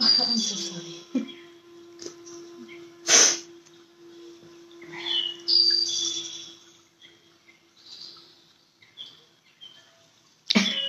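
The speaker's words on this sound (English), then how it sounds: "So sorry, I just had a sudden sneeze." A single sharp sneeze bursts out near the microphone during a quiet drawing session, followed by scattered faint rustles and a few short voice sounds.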